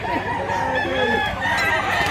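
A rooster kept as gamefowl crows once, close and loud, a short harsh call over a busy outdoor background of other birds and faint activity.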